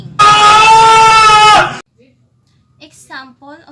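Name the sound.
person screaming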